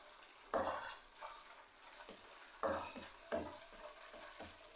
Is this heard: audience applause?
no